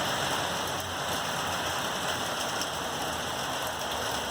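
Rain falls steadily during a cold rainy day with thunderstorms in northern Utah, a continuous even hiss of drops on surfaces heard from nearby throughout, with no talk.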